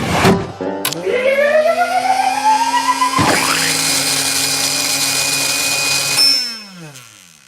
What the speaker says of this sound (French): et finit dans le mixeur